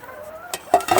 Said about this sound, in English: and we pick up our pan on the way by.